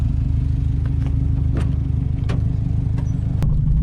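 A modded Subaru WRX engine idles with a steady low rumble close by, with a few faint clicks and clatters over the drone.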